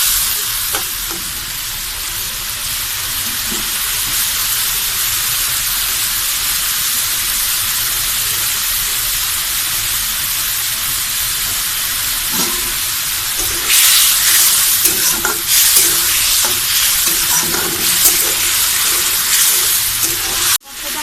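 Turmeric masala for rui fish curry with potato and flat beans sautés in oil in a pan, a steady close sizzle and hiss with occasional stirring scrapes, growing brighter and louder toward the end, no talking.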